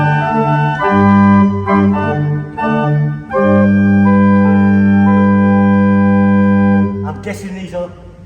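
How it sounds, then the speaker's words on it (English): A large open diapason stop on a three-manual pipe organ sounds loud, sustained, full chords with steady low fundamentals, shifting between held harmonies and ending on a brief higher flourish. "Next we have a large open diapason,"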